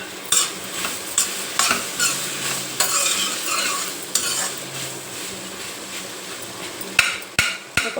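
A spoon stirring tomatoes cooking in a pan for dondakaya pachadi, with repeated scraping clinks against the pan over a steady low sizzle, close and alone.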